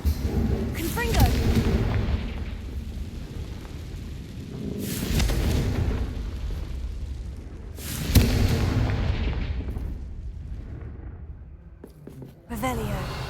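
Confringo fire spells explode in Hogwarts Legacy with several loud booming blasts and rumbling crackles spaced a few seconds apart amid game ambience, while a voice speaks in places.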